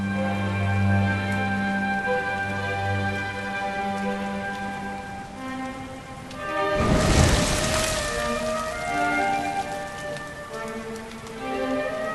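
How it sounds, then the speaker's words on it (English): Steady rain pours in the Dragon Quest XI video game, a loud, even hiss that surges into a heavier wash for a moment before settling back, with sustained musical tones beneath and no voices. "Looks like the rain's dying down."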